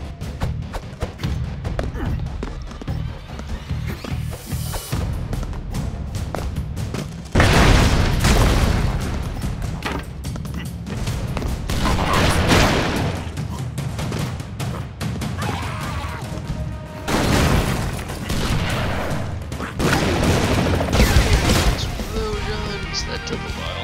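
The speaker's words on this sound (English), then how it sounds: "Explosions!" Repeated loud booming explosions from the run-and-gun video game Broforce, bursts of blasts and crashes in waves over about twenty seconds, with game sounds between them.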